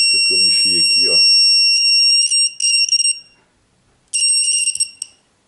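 An ACUANGLE A8826D automatic laser level gives a shrill, high-pitched tilt warning made of rapid pulsing beeps in bursts with gaps between them, right after someone speaks briefly at the start.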